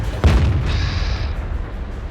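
A single heavy tank cannon shot from an M36 Jackson in a tank video game, one sharp booming blast followed by a long rumbling, hissing decay that fades over about two seconds.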